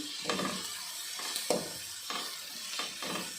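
Grated coconut fries in a pan for a palya, giving a soft crackling sizzle interrupted by several scrapes and stirs of a spoon at a steady pace.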